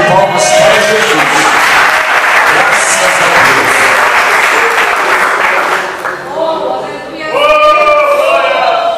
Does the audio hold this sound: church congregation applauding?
yes